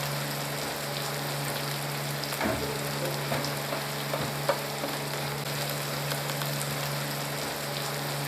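Tomatoes frying in a pan make a dense, even sizzle like light rain, close and constant, with a few faint clicks of a utensil and no talking.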